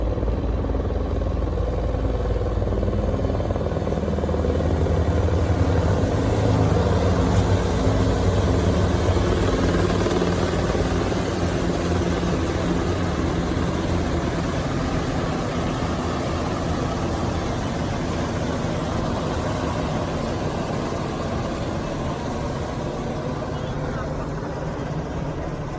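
Steady, loud engine drone of three low helicopters flying overhead fills the whole stretch with a constant low rumble and broad noise, without letup.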